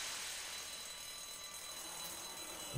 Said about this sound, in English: Oh, that's the alarm of the drugstore